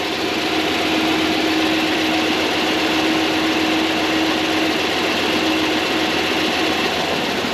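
A 1994 Ford F150 engine runs after sitting flooded for eight years, a steady, loud idle with an even droning hum and a constant tonal whine, alone without talk.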